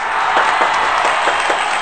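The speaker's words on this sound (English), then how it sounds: "Clap your hands for Booty." Students clapping their hands in a classroom, a lively patter of claps with a few sharper individual claps standing out at regular intervals.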